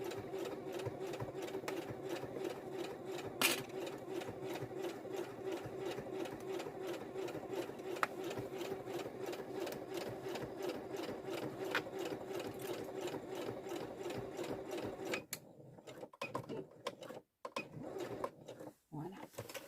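A sewing machine, normally driven by a leg pedal, stitches in a fast steady mechanical whir with a rhythmic clatter, close and continuous before stopping into a few scattered clicks, with people talking over it.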